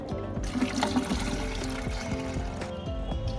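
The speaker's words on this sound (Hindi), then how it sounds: "बाल्टी से खूब सारी पानी ले लेते हैं और यहाँ डाल देते हैं।" Water poured from a bucket into a guppy pond, a steady, continuous splashing trickle, close and even throughout, with no talking.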